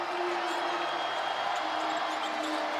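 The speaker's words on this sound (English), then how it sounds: "Crowd roaring in Bramlage." A home crowd roars loudly and steadily at Bramlage Coliseum during a tight fourth quarter of a K-State women's basketball game against Utah, a dense, unbroken wall of cheering.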